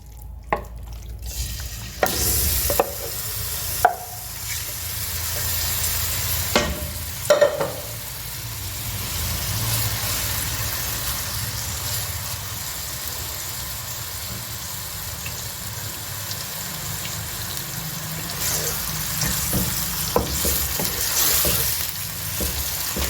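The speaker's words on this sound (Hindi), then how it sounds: "इसको हमने फ्राई करना है" Chicken pieces frying in about a cup of hot oil in a pan, with a dense, steady sizzle and a few sharp scrapes and knocks of stirring early on, close and loud.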